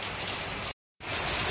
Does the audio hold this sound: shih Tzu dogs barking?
no